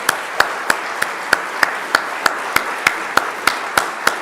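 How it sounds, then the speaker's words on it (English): Clapping at a closing ceremony for President Mbeki, heard as a sharp, evenly spaced rhythm of single claps about three per second, close and distinct against a quiet hall. "Please stand up and applaud President Mbeki, the hotel, and of course, all of you."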